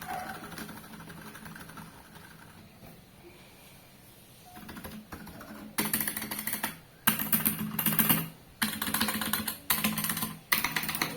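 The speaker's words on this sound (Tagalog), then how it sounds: "Minomod yung keyboard most notably para ma-improve yung acoustics o yung tunog ng keyboard." Rapid clacking from a mechanical keyboard being modded for better acoustics, quiet at first, then loud bursts of typing in quick runs separated by short pauses.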